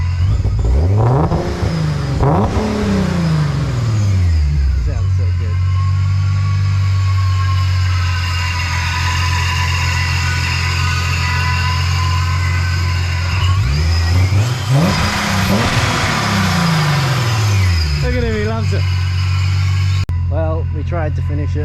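A Datsun 260Z engine is blipped in two sets of rising and falling revs, split by a long steady high-idle drone, loud and close throughout.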